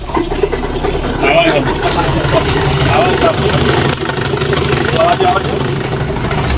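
An Activa 125 BS6 scooter engine with a drive belt fault runs with a steady idling rumble that rises briefly, while a voice talks over it nearby.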